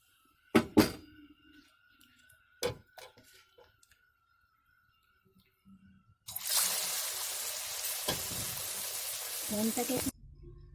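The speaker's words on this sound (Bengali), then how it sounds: "এবার বাকি চপগুলো এইভাবে আমি ভেজে নেব" Pea chops drop into hot oil in a home kitchen. A few sharp clunks come first, then a loud, steady sizzle of frying rises and runs for several seconds.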